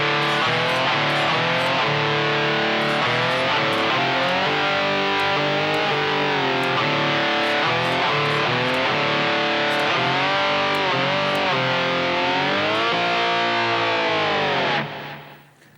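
Heavily distorted electric rock slide guitar in a slower halftime-feel section, thick sustained power chords with repeated slide swoops, loud and solo, cutting off near the end.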